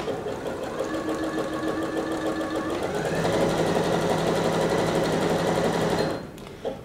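A Bernette B37 sewing machine running steadily as it stitches a zigzag pattern, a loud, close, even mechanical whirr with rapid needle chatter that picks up slightly partway through and then stops near the end.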